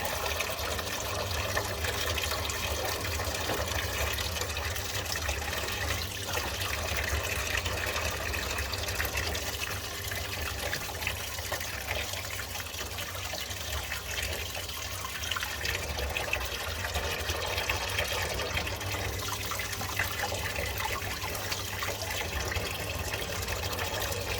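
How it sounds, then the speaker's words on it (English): Tap water running steadily into a stainless steel sink, a continuous close gush and splash with no talk, while a boiler central heating magnetic filter is being cleaned. "start your tap running, making sure it's a stainless steel sink as well"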